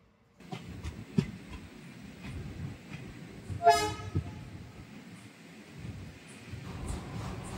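The Kollam Express, a passenger train running from Chennai Egmore to Rajapalayam, rumbles steadily on the rails from inside a coach. Wheels knock at rail joints and a horn sounds briefly in the middle.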